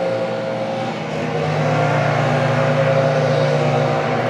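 A Ferrari Purosangue's V12 engine drones loud and close in a sustained rev, its pitch rising slightly partway through and holding steady.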